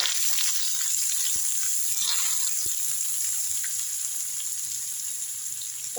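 Ginger sautéing in a pan for a ginger garlic pickle gives a steady, even sizzle that stays close and continuous, with a few faint clicks over it and no voices.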